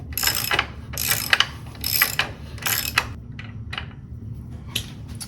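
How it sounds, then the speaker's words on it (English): A hand ratchet clicks in quick bursts while loosening the rear shock bolt on a BMW R1200RS motorcycle, four strong ratcheting runs followed by several lighter, shorter clicks, close and without speech. "I've got a ratchet now, just to make the job a little easier."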